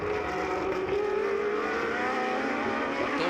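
A Mercedes Formula 1 race car races at Sonoma, its engine a loud, continuous high-pitched whine with shifting pitch as it is pushed hard.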